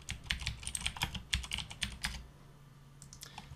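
Commands are typed on a computer keyboard in a rapid, uneven run of close, crisp key clicks, thinning to a few scattered taps near the end.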